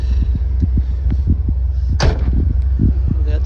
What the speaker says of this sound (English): I like to close doors.